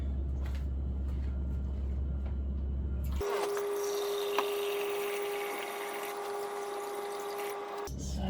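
Water runs steadily into a deep fryer while it is washed, a loud, even rushing splash that starts abruptly after an engine-like rumble and stops just as suddenly.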